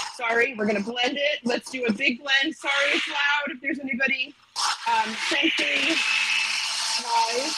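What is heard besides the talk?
blender blending blueberry mixture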